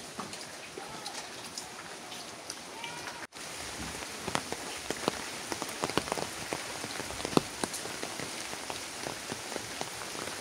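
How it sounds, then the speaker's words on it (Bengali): Heavy rain pours steadily on a home's roof and surroundings during a rainy day, a dense broadband wash with scattered louder drops, unbroken apart from a brief cut near the start. "প্রচুর বৃষ্টি পড়তেছে।"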